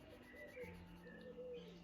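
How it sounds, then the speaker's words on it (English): Soft bird calls and cooing drift in from a distance, faint and steady across a quiet room. "you might be able to hear the birds in the background"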